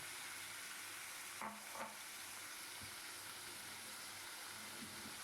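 Spiced chicken mince frying in white oil in a kadai gives a faint, steady sizzle with a couple of soft scraping stirs, heard alone at low level.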